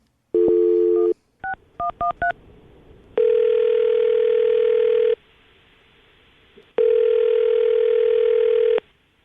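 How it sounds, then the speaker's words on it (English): A telephone call placed on a morning radio show: a short tone, a quick string of keypad dialing beeps, then two long, loud ringback tones separated by a brief pause. "we're going to call her right now and see if we can get her on the phone"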